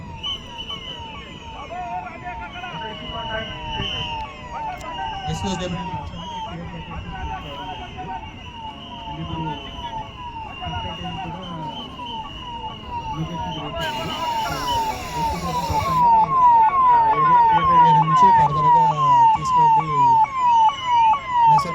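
An ambulance siren wails with steady repeating sweeps as a person who collapsed unconscious after a gas pipe leak is moved into the ambulance, with traffic noise and voices around it, and the siren grows louder toward the end.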